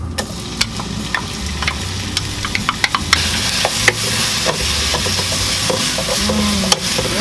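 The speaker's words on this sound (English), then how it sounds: "now we're gonna do our curry paste saute" Curry paste sautéing in oil in a pan for red curry chicken noodle soup, a steady close sizzle with repeated scrapes and clicks of stirring throughout, no voices.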